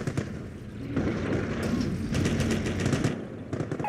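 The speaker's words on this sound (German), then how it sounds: "Der Feind nimmt uns unter Beschuss!" Gunfire from a Company of Heroes Eastern Front 2vs2 battle on the Sicily map, a dense, steady crackle of rapid shots and bursts that continues with few pauses throughout, close and fairly loud.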